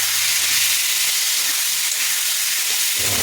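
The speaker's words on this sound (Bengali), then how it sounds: "এবার মুসুর ডালগুলো দিয়ে দেবো। দিয়ে ভালো করে নাড়বো।" Red lentils frying and being stirred in a pan with garlic, potato, salt, turmeric and dried chilli: a steady, loud sizzling hiss with faint scraping of stirring underneath, continuous and close, no voices.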